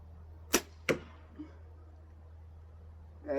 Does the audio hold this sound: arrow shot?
yes